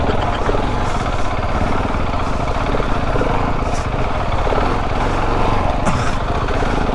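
KTM 690 Adventure R off-road motorcycle running at an adventure park training ground, a constant loud rough engine drone with gritty texture throughout and a couple of faint higher bursts.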